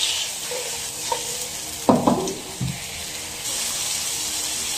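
Chorizo sizzles steadily in a hot pan for an Arroz Valenciana with chicken, with a loud continuous frying hiss and a few brief clatters of stirring near the middle.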